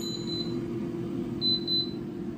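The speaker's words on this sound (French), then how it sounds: "vous voyez, ça bipe encore." An Ultenic K10 air fryer beeps in two short bursts of high electronic tones, a quick cluster near the start and another about a second later, over a steady low appliance hum.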